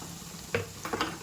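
Marua fish frying in a pan with salt and turmeric, giving a soft continuous sizzle with a few brief stirring scrapes and spatters near the middle.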